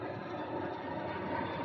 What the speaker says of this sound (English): As you can hear, the motor revving up.